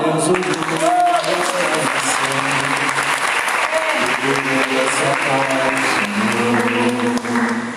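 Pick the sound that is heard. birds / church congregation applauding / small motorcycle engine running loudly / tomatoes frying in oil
church congregation applauding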